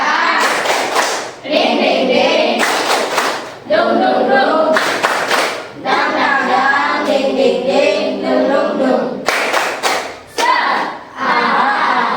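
Children in a classroom doing a rhythmic clapping chant, bursts of loud patterned hand claps and thumps alternating with group chanting voices, close and energetic.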